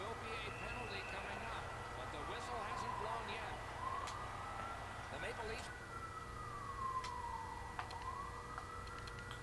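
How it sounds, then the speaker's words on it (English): Hockey video game arena sirens wail in rising and falling sweeps at moderate level, heard under a play-by-play commentator's continuous talk and crowd noise. "sirens. Awesome."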